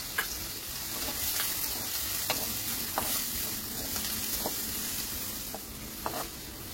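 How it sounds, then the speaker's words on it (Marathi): Two large finely chopped onions sauté in a hot oil tempering with green chilli for a Malvani bhaji, giving a steady close sizzle broken by a spoon scraping and clinking against the pan every second or so. "आपण इथे 2 मोठे कांदे बारीक चिरून घेतलेत, ते आता या फोडणीमध्ये परतून घेणार आहोत"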